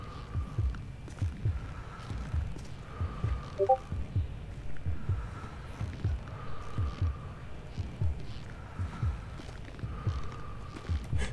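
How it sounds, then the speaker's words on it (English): A steady heartbeat sound effect in Grand Theft Auto V, low rhythmic thumps repeating evenly over a faint background hum. "I hear the heartbeat coming closer."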